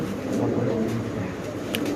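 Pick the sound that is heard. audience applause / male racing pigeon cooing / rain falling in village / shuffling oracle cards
male racing pigeon cooing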